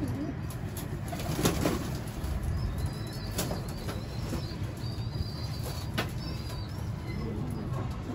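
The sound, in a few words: pigeons bathing and flapping wings in loft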